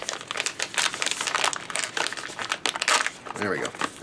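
A resealable plastic bag of BBQ bacon jerky crinkles and rustles continuously up close as it is worked open, with speech over the crackling.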